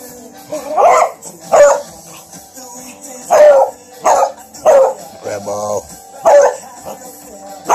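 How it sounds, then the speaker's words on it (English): A dog barks repeatedly and loudly nearby, drawn-out barks at a steady pace, with a brief human voice heard between them. "What's all that noise, hound dog?"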